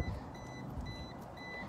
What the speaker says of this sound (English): It keeps beeping. I think the battery's low.